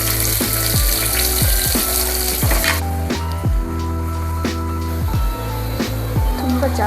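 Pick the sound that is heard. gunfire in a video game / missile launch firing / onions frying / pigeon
onions frying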